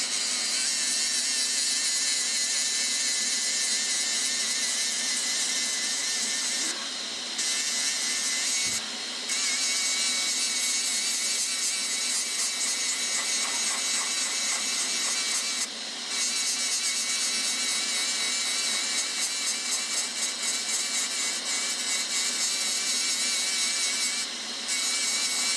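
A Dremel rotary tool sanding and smoothing the edge of a jasper rock, a steady high-pitched whine with grinding rasp running continuously for the whole stretch, with only brief dips in pitch.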